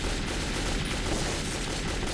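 Heavy gunfire in the video game Metro 2033, a dense, continuous burst of rapid shots that fills the whole stretch without a break, loud and close.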